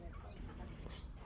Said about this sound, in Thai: นี่ก็ฟาร์มไก่เพิ่น